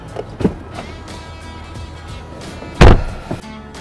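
A Tesla Model S unlocks remotely and opens, giving a few soft clicks and whirring mechanical movements followed by one loud, close thud of the door or latch, with quiet surroundings.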